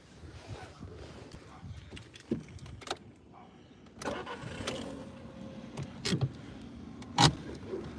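A 2015 Seat Toledo with minor damage being started inside the cabin: faint clicks and rustles, then the engine cranks and catches around the middle and settles into a quiet idle, with a few sharp knocks.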